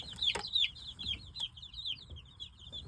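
Young Dark Cornish meat chickens on a homestead peep in a rapid series of high, chirping calls, close by, over soft background shuffling with one sharp knock.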